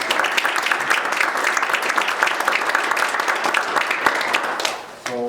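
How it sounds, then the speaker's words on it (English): A room full of guests at a mayor's levee applauds steadily and loudly for several seconds, the clapping thinning out near the end. "I think another round of applause for you and your wife"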